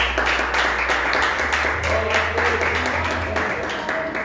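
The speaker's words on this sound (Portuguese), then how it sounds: "Palmas para Jesus." Congregation clapping during a Sunday church service, a steady layer of hand claps over a low sustained musical drone, with voices faintly present.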